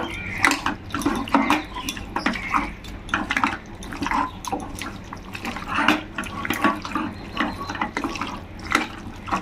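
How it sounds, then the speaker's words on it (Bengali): Chicken pieces worked by hand through a butter and soy sauce marinade in a bowl: steady wet squelching with frequent light clinks of the dish, close and continuous, no voices. "দিয়ে এটাকেও ভালো করে মাখিয়ে নেব"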